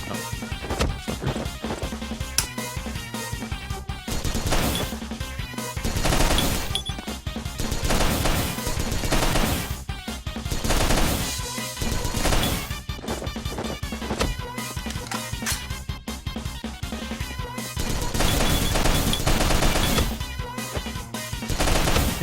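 Dense, continuous video game gunfire during a boss fight in Mercenary Kings, rapid automatic bursts and impacts layered loudly over game music with brief gaps between volleys.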